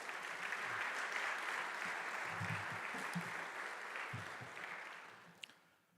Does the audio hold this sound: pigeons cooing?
no